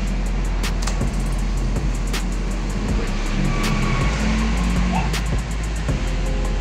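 Honda Click 125i scooter engine idling fast right after an ECU reset, a steady close-up hum that holds without pause, with a few sharp clicks or taps on top.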